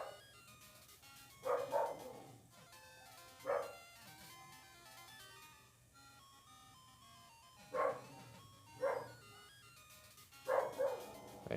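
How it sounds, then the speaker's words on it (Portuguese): Dogs barking in the Pokémon Gold video game come as short, bright synthesized bark bursts, in pairs and singles, spaced a few seconds apart over quiet chiptune music. "Os cachorros."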